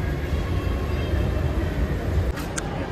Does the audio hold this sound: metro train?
yes